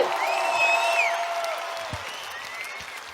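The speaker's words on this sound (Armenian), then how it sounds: "Խնդրում եմ մի հատ բուռն ծափերով նախագահ Մակրոնին ողջունել" An audience in Gyumri applauding French President Macron, a burst of clapping that fades out over a couple of seconds, with whistle-like tones and scattered crowd noise layered on top.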